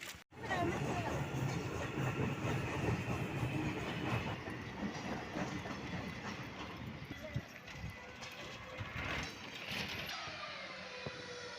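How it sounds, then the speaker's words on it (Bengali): A crowded metro train in motion, a continuous rumbling ride with rhythmic rail clatter and murmuring passengers' voices in the background throughout. "আমরা মেট্রোয় উঠে গেছি"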